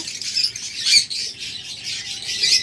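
A sea green pet bird pair, offered for sale, gives loud, close, harsh squawks in a continuous chattering stream with brief shrill peaks.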